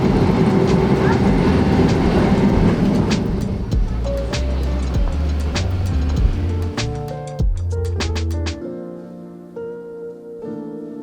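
A Christchurch city tram runs its figure-of-eight circuit with a loud, close rumble and rattling clatter of wheels on rail. Sharp clicks and clunks punctuate the noise, which settles into a lower hum toward the end.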